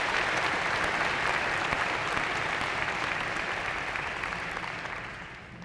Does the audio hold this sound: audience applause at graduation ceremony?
yes